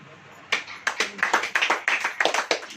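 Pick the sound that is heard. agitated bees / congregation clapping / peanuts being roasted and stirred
congregation clapping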